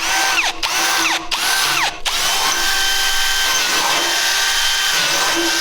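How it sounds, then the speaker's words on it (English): A power drill with a step drill bit whines loudly and close, spinning up and down in short bursts before running steadily as it re-bores powder-coated holes in metal. "we're just gonna drill our holes back out because they've gotten smaller with the powder coat"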